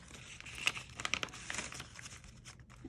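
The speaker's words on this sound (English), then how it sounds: "I'm going to take the tape off." Tape is peeled off paper pattern pieces in a quiet room, giving close, faint crinkling and tearing crackles in a quick irregular series over a few seconds.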